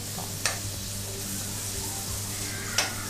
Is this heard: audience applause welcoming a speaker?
no